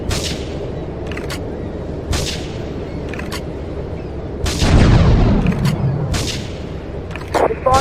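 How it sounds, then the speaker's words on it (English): Gunfire and explosions in the video game Grand Theft Auto III: sharp, loud bangs at irregular intervals, then a heavier rumbling blast around the middle, with faint voice traces underneath. "Investigate reports of gunfire and explosions."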